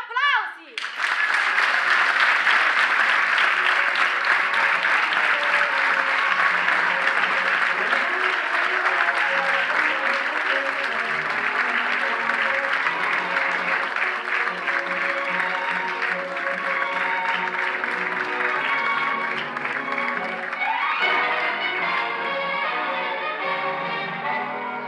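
Theatre audience at a municipal theatre in Sicily applauding at the end of a comedy play act: dense, sustained clapping from a full house, loud and even, fading slightly toward the end.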